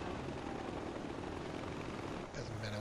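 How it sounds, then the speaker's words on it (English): A helicopter in the video game Far Cry 4 roars loudly and continuously with a dense rotor thrum, and the sound changes abruptly near the end. "Oops, there goes the chopper."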